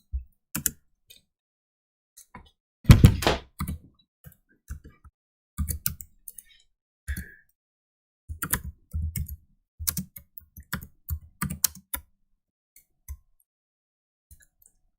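Computer keyboard keys click in irregular clusters of quick taps separated by short silences, close and crisp with no voice over them.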